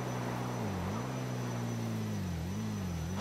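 A police helicopter hovers overhead in a video game, a steady droning engine-and-rotor hum whose pitch slowly wavers up and down under a faint hiss, with no one talking.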